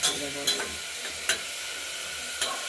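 Masoor lentils being stirred as they fry in a pan, with a soft constant sizzle and several distinct scraping strokes of a spoon at irregular intervals, close by and moderately loud; no speech.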